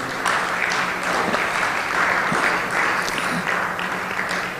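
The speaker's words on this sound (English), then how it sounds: "And another round of applause for Isaac." A conference audience applauds steadily, a dense, even wash of clapping from many hands that holds at the same level throughout.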